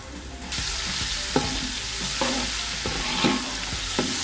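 Steady broadband sizzle of onions frying in a pan for yakhni pulao, with a few soft stirring clinks and scrapes at irregular intervals, close and moderately loud.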